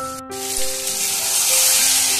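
Soybean kofta curry with tomato ketchup being stir-fried in a pan, a steady close sizzle with faint stirring, no voices.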